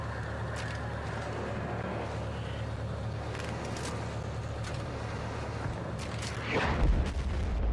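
Explosion in the Battlefield 6 video game, a sudden loud low boom near the end that swells over a steady rumbling battlefield din with scattered distant cracks of gunfire.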